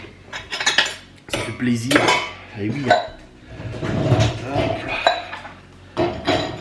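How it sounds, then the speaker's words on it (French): Dishes and cutlery clatter and clink while being loaded into a dishwasher in a family kitchen, with close, irregular bursts of scraping and chinking as a person speaks briefly. "Je mets tout ça, tout ce qu'il faut dans le lave-vaisselle."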